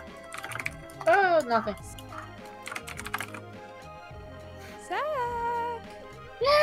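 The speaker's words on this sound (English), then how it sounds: "Zach, your typing is obnoxious" Keyboard typing in short bursts, close and fairly loud, with a voice speaking briefly and tonal game sounds in between.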